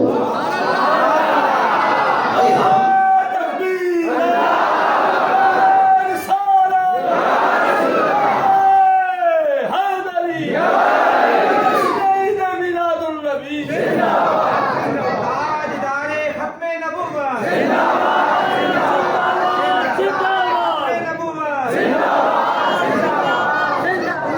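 A crowd at a religious gathering chants slogans together in loud, rhythmic call-and-response bursts, many voices close and massed, continuing steadily throughout.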